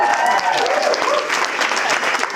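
Wedding guests clap in steady, dense applause filling a reception room, continuous and fairly loud throughout with no pauses.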